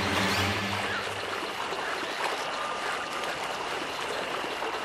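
A river flows steadily in The Witcher 2, a soft, continuous rushing and trickling of water with no voices.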